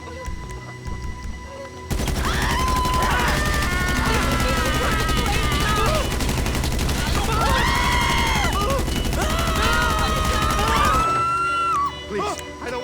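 Sustained gunshots and bursts of automatic fire in Grand Theft Auto V ring out loud and continuous, mixed with game music and voices for about nine seconds before dropping away.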